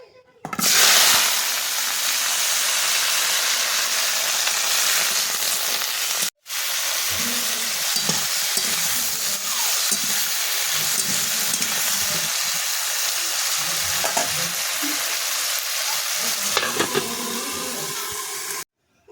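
Cauliflower and potato curry vegetables frying in hot oil, a loud steady sizzle and hiss close by that continues throughout, with a brief break partway and occasional stirring scrapes.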